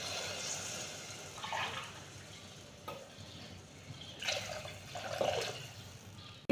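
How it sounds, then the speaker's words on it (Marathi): Two glasses of water poured into a cooking pot, a faint splashing and gurgling that rises in a few short bursts over a quiet kitchen background. "2 ग्लास पाणी टाकते मी"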